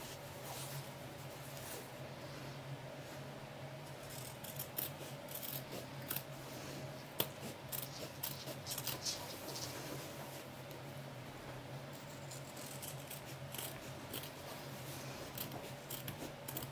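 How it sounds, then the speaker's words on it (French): Scissors cutting around a marked line in fabric for a sewing storage project, a series of soft, irregular snips and crisp rustles over a quiet steady hum, with no talking. "maintenant, on va découper tout autour, là, où on a fait notre ligne"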